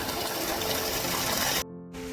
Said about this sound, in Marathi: विहिरीत आपल्या परत पाणी भरलं त्यामुळे पंप परत चालू केलेला आहे